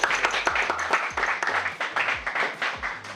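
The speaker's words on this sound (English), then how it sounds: "Another round of applause" Audience applause at a London tech community event, a steady patter of many hands clapping at moderate loudness, with a few low thumps and faint voices mixed underneath.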